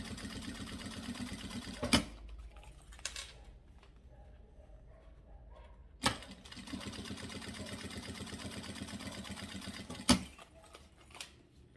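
Sewing machine stitching a fabric cable cover, running in bursts of rapid even stitching that stop and restart, with sharp clicks at the pauses and a quieter lull in the middle; fairly faint and close.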